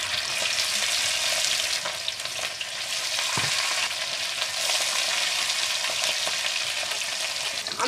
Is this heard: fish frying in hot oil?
yes